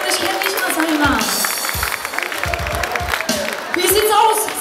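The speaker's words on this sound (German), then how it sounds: "Mega Applaus!" A festival crowd at a Schützenfest in Wietmarschen applauds and cheers loudly, dense clapping mixed with shouting voices and thumping bass, swelling again toward the end.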